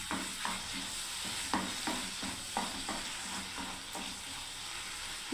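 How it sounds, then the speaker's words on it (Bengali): Okra in a mustard-almond paste sautéed in a pan, a continuous sizzle with regular scraping strokes of a spatula stirring every half second or so, close up, with no talk. "আবার আমি কষতে থাকবো বন্ধুরা 2-3 মিনিট"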